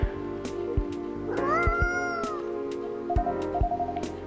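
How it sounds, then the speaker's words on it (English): A cat meows in the cozy café game Coffee Talk, one drawn-out rising meow over soft background music with a steady beat, close and clear with no talking. "Ah, poor kitty."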